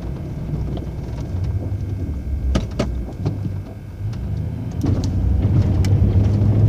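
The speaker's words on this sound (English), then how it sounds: "The truck can do it, you just don't ask it to do too much in one pass." Pickup truck plowing drifted, wind-packed snow around a compound, a close rumbling engine under scraping and crunching that swells toward the end, with a couple of sharp knocks partway through.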